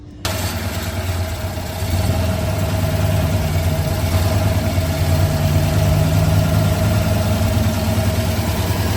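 Car engine idling at low RPM with a misfire, a steady loud rumbling drone with an uneven, slightly shaky pulse that sets in abruptly and runs close throughout, with no talking.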